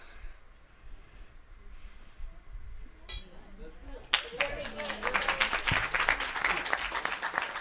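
An audience at a Holi celebration at a gurukula gives a young speaker a round of applause, beginning as scattered claps and swelling into dense, steady clapping that fills the room.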